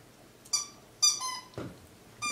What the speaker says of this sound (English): You hear squeaks now and then. It's my little Maltese. She's playing with her favorite piggy.